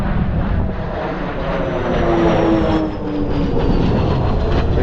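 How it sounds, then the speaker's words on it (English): Aircraft engines roar overhead in a loud, sustained drone that swells slightly and holds steady, with no talking. "Got some aeroplanes going overhead there."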